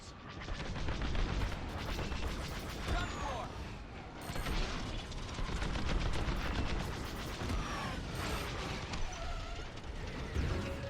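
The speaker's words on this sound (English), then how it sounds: "Fire missiles." Missiles fire in a rapid volley of sharp launches and bursts with mechanical clatter, dense and continuous, while voices speak over the barrage.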